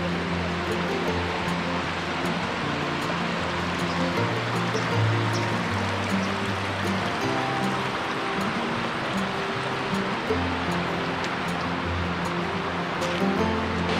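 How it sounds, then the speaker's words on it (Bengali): The Lakhaniya Dari waterfall near Mirzapur, Uttar Pradesh, pours in a dense, continuous rushing roar, loud and close, with no voices. "অবশেষে পৌঁছে গেলাম দারি ওয়াটারফলসের সামনে।"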